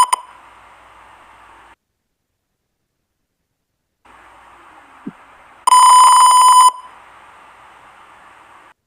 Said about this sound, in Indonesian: LED dan buzzer akan bunyi.